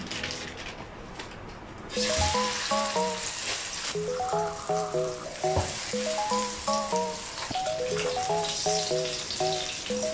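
Frozen Halawani beef burger patty frying in a pan, a steady loud sizzle throughout with a clattering, rhythmic tonal pattern riding over it and no talking.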